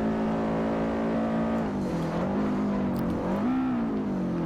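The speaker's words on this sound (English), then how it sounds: "Oops, I just overrev the engine." A Subaru Impreza STi racing in Forza Motorsport 4 over-revs its engine, a loud sustained buzzing drone whose pitch dips and climbs repeatedly, heard alone without talk.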